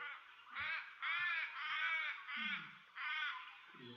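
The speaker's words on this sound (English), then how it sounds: "Okay, so that's the little raven." A little raven gives a quick run of about five harsh, nasal caws in close succession, fairly near and clear, with faint low rustling between the calls.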